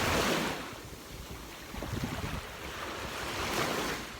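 Ocean surf rolls in on a blustery pre-storm day, a broad roaring wash that swells and recedes in slow surges, with gusting wind buffeting the microphone and no speech.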